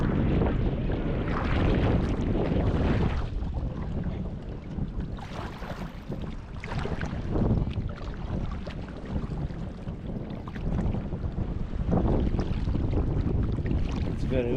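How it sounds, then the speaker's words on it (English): Strong wind on the Munxar cliffs in Malta buffets the microphone in heavy, continuous gusts, rising and falling in roaring waves with no voices heard. "Very windy here now."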